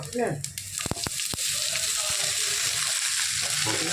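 Chopped onion dropped into hot oil with popped mustard seeds, hissing in a steady broadband sizzle with a few sharp clinks near the start and faint voice traces underneath.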